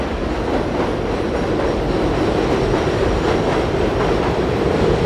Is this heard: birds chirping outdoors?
no